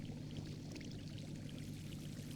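Water poured onto a reactor in the Minecraft modpack Tekkit Legends, a steady, continuous pouring rush that stays at an even level and goes on alone for a couple of seconds.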